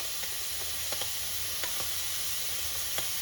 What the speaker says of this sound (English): the onion and tomato have started sizzling